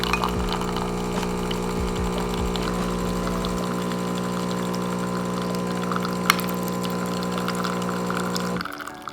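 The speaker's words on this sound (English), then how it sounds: "The machine will brew it at a cooler temperature, meaning you need less ice." A DeLonghi Magnifica Evo ECAM29084 super-automatic espresso machine brews coffee over ice, giving a steady loud pump drone with liquid flow that runs for about nine seconds and then cuts off abruptly near the end.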